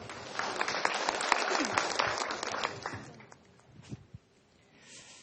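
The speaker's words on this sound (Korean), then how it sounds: "큰 박수로 환영해 주시기 바랍니다" A conference audience at a televised Korean education conference applauds to welcome a Seoul National University professor, a few seconds of moderate clapping that thins out into scattered claps and quiet.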